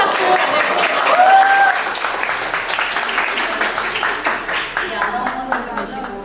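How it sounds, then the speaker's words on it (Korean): Audience applause at a conference opening in Jeju, a dense burst of clapping that fills the room, strongest in the first two seconds and then thinning while a few voices carry on over it. "여러분 큰 박수로 맞아주세요"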